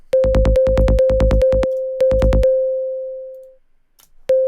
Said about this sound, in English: So as you can see, this is just a sine wave.